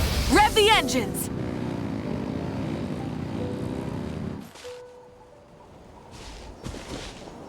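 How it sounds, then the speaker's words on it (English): Engines revving in the Genshin Impact game, a loud rising roar with a whining sweep at the start that holds steady before cutting off, followed by quieter ambient hum and a few faint bursts. "Rev the engines!"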